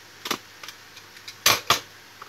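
Packaging for a Big Bang Genesis spinning-top battle toy is opened, producing a few sharp, close clicks and crackles, with two louder snaps near the end and no talking.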